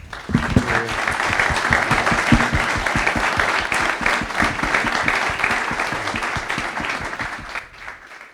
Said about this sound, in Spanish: muchísimas gracias y se merecen un fuerte aplauso